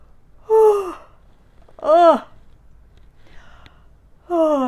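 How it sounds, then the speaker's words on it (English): Three drawn-out yawning vocalizations, each swooping up and down in pitch, spaced apart with quiet between them, close and clear. "The first thing is to yawn and do a lip roll"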